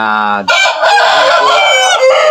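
A Japanese Shamo Ibaraki cross rooster crows loudly and close by, one harsh, strained crow lasting about two seconds, following a brief lower call.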